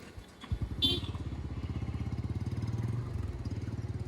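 A 100cc Bajaj Platina motorcycle engine catches after a brief clatter, then runs with a rapid, even pulsing throb, rising slightly in pitch as it revs up, loud and close.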